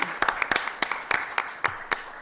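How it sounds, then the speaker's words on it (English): Applause at a Bristol, Tennessee city council meeting, a small group clapping with sharp, distinct individual claps standing out over a light, sparse background of hands. "He deserves a round of applause"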